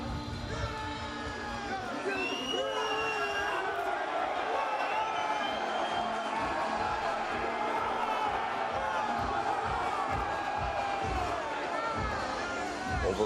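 Large overflowing crowd at Box Park Wembley for a heavyweight boxing weigh-in, a continuous roar of cheering, whoops and chatter with shouted voices rising throughout and no single speaker standing out.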